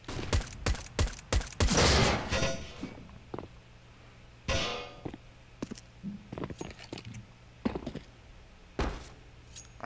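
Rapid bursts of gunfire spray through smoke in a Counter-Strike match on Mirage, a dense volley at first and then scattered sharp shots and thuds that trail off.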